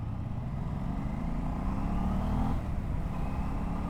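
A 2025 Aprilia RS 660 sport motorcycle with an aftermarket exhaust holds a loud, steady engine drone close by, the pitch rising slightly before easing back.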